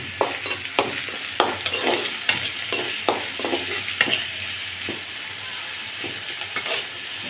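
Village-picked leafy greens frying with onions in a pan, a soft sizzle underneath a run of sharp, uneven scraping strokes as the spatula turns the mixture, close by and with no talking.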